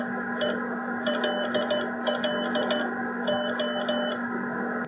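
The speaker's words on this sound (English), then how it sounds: "This is some incoming Morse code being transmitted by W1AW." Incoming Morse code from W1AW, received on a radio and fed to an Arduino decoder, plays as clusters of short and long high-pitched beeps over a steady hum and hiss.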